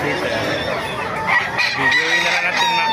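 Many chickens cluck and roosters crow together in a noisy, busy chorus at a market in Bocaue, Bulacan, some calls close and others farther off, with a voice murmuring underneath.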